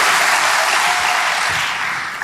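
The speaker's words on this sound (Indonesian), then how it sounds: "Berikan tepuk tangan bagi Tuhan, haleluya" A church congregation clapping in praise, a dense, loud, continuous wash of applause from many hands filling the whole stretch without pause.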